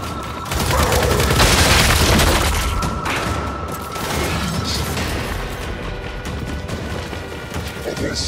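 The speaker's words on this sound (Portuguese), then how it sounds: "Lançando granada de fragmentação!" Frag grenade blast in the video game Gears 5, a loud dense boom mixed with gunfire and battle noise, continuous and close throughout with voices talking over the action.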